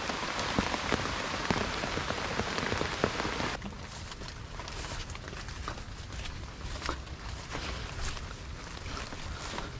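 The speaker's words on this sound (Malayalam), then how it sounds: "നല്ല മഴ വരുന്നുണ്ട്" Heavy rain drumming steadily on surfaces nearby, a dense patter that eases slightly partway through but keeps falling without a break.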